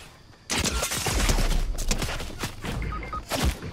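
Fortnite gunfire breaks out suddenly and loudly, with rapid repeated shots and impacts that continue in bursts without a pause and with no talking.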